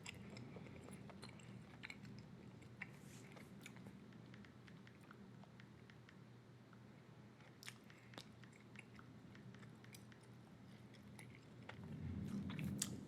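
Quiet, steady chewing of bubble gum close to the microphone, soft wet mouth sounds repeating throughout with small clicks and no talking.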